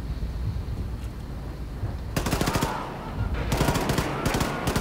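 Rapid automatic gunfire in the first-person shooter Wolfenstein II: The New Colossus, loud bursts of shots that start partway through over a low rumbling game background.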